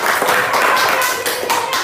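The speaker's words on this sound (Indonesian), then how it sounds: "tepuk tangan untuk Oke" A classroom of students claps together in a quick, dense burst of hand claps, close and lively, lasting a couple of seconds.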